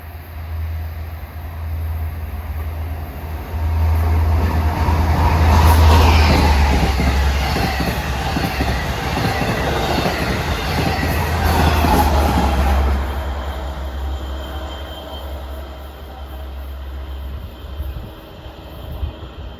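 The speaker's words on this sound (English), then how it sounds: "Comes another dual mode at 8:02. This is 5:13 out of Oyster Bay to Penn Station." A Long Island Rail Road dual-mode passenger train, running from Oyster Bay to Penn Station, rolls loudly past New Hyde Park with a deep steady rumble that swells mid-pass and then fades, with no talk.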